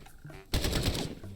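A sudden burst of rapid video game gunfire erupts after a quiet moment, a loud rattling volley lasting under a second before fading.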